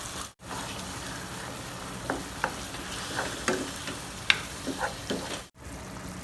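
Ground pork is stirred as it fries in a pan, giving a steady sizzle with scattered scraping and clicking strokes from the spoon and two short breaks in the sound. No one speaks.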